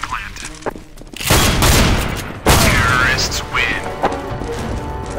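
Shotgun fire during a shotgun duel in the game Counter-Strike: Global Offensive: two loud, booming blasts about a second apart, each with a crashing tail, and quieter game sounds around them.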